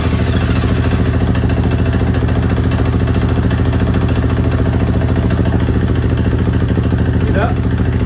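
A KTM 501 FE / 500 EXC single-cylinder motorcycle engine idles steadily up close after a valve adjustment, a loud, even rapid thumping with light mechanical clatter and no audible ticking of loose valves.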